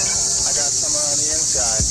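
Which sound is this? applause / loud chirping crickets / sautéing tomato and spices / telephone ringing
loud chirping crickets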